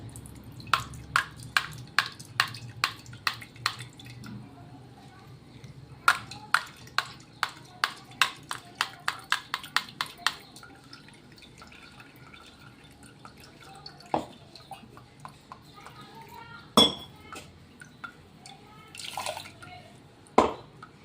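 Ground mint for a chilled mint sherbet strained over ice in a metal pot, giving a run of sharp drips and trickles in quick bursts, then sparser splashes with quiet gaps between.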